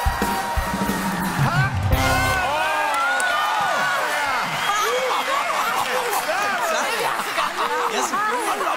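A circus audience cheers and yells together in a loud, lively crowd roar that fills the whole stretch, with scattered shouts and laughter rising from the mass.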